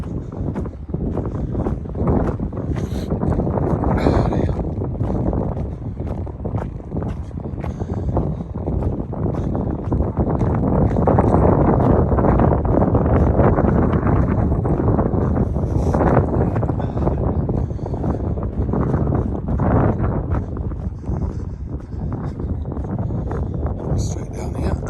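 Strong wind buffets the microphone on an open hillside walk near Marsden, a steady roaring rush throughout with some rustling, and a voice talks at times beneath it.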